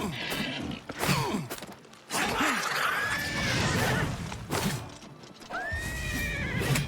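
A horse in Oblivion Remastered neighs and whinnies repeatedly, loud and close, with hoof clip-clop and thuds of a fight mixed in during a chaotic game battle.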